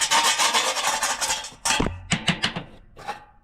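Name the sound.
scraping old gasket off Rheem water heater burner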